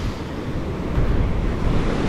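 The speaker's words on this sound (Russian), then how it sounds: "Смотрите, как расколачиваются волны!" Powerful ocean surf crashes onto a beach at Tangalle, a broad, loud, continuous roar of breaking waves with wind buffeting the microphone and no voices.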